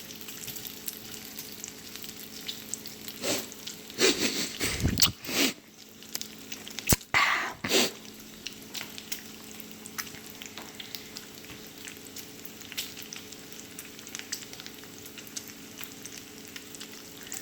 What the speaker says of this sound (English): Now at this point the bacon is starting to render, but it's still cooking well.